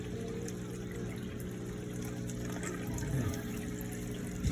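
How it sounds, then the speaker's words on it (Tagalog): A water pump runs in a steady, continuous hum with a flowing, watery wash over it, fairly loud and unbroken throughout, with no talk. "Nagban ka water pump o."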